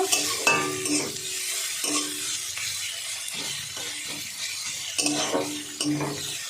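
Onions frying in a pan over a high gas flame, a steady crackling sizzle broken by repeated scrapes and clinks of a spatula against the pan, close and fairly loud, with no voices.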